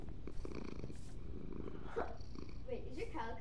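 A calico cat purrs in the Minecraft video game, a soft, steady low rumble running through the short stretch with faint game sounds over it.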